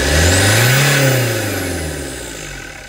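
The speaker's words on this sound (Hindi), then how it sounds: "जम के रेस कीजिए।" A diesel vehicle engine being revved hard during a fuel injector, DRV and metering unit check, loud and close, rising sharply to a high roar then slowly winding back down toward idle.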